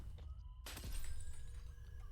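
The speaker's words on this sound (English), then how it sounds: "The sound of a shattering like that means someone got hit or killed." In the horror game Doll Impostor, a sudden sharp shatter bursts out midway and rings off with a lingering crackle over a constant low rumble.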